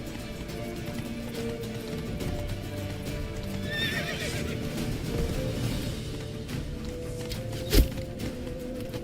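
A horse in the Witcher 3 video game clip-clops along with rhythmic hoofbeats under ambient game sound, then gives a loud whinny, with a sharp impact near the end.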